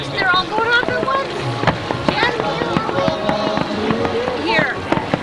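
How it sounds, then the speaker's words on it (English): Fireworks at a summer fest burst repeatedly in a dense volley, sharp cracks and pops overlapping at middle distance amid crowd noise and voices. "Look at the fireworks. They're all going off at once."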